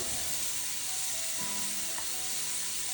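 Onions, pepper, scallion, garlic and ginger sauté in a pan for coconut curry chickpeas, giving a steady, even sizzle throughout with a faint stir near the middle and no talking.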